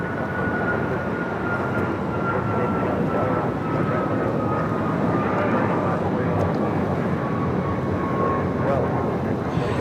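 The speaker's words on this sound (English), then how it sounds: "This is Alaska Airlines 1412 taking off to Liberia on the MAX 9." An Alaska Airlines Boeing 737 MAX 9 takes off at Los Angeles International Airport, a continuous broad engine roar with a faint high whine held steady throughout, while voices talk over it.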